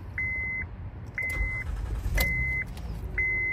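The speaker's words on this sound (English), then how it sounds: "Car starts right up" A 2013 Honda Pilot EX idles with a low steady rumble, and a sharp click comes partway through. Four evenly spaced electronic warning chimes sound over the engine. No one speaks.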